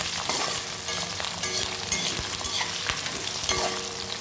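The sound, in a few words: onions frying and being stirred in a pan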